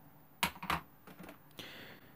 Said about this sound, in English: So this is my favorite mini wireless keyboard.